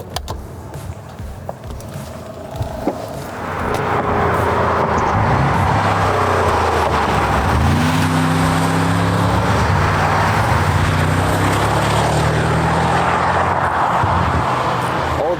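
A Mercedes G63 AMG drives off, its engine note swelling from a low idle into a loud, sustained roar with rising and falling gear tones, heard from close by with no talk.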